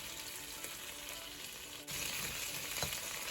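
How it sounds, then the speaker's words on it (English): Pork ribs fry in a little oil on the stove with a steady, soft sizzle that jumps louder partway through as the pan is disturbed, with no voices over it. "So I'm basically frying the ribs in a little oil here, just to get them golden brown in color."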